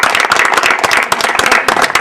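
Sustained applause from a gathered audience at a welcome ceremony, greeting a newly seated chairperson; dense, even clapping fills the whole moment at close range with no talk over it.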